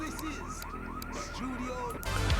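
A police siren in the video game GTA 3 wails in repeated rising and falling sweeps, steady and fairly loud, with an engine-like rumble building near the end.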